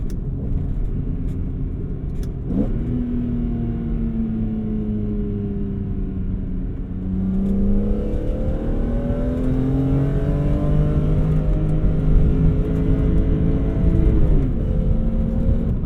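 A BMW E46 M3 with the S54 engine and SMG gearbox drives on the street, its engine note droning and rising through the gears in long pulls, with a rough low rumble and a gear change heard partway through.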